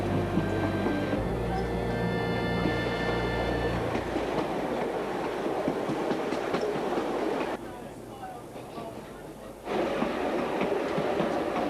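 Steam Ranger's 520, a steam tourist train near Mount Barker south of Adelaide, rolls past on rails with a steady loud rumble and rhythmic wheel clatter that briefly drops before returning.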